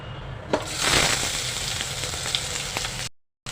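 Chopped onion and curry leaves frying in hot oil in a kadhai, a sudden loud crackling burst as they hit the oil, then a dense steady sizzle with a few pops before cutting out.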